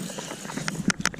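Fishing reel drag clicking on a boat while fishing topwater Spook lures, a handful of quick bright ratcheting clicks building near the end over low water and boat noise.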